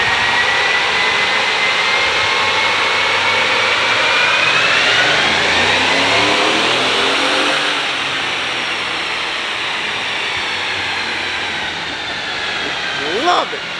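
A stock Ford F150 5.0 V8 with a 10-speed transmission roars under load on a dyno, loud and continuous, its pitch climbing and dropping as it shifts through gears, with tire whine and cooling fan noise beneath.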